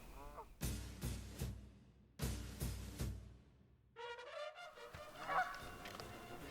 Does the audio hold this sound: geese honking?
yes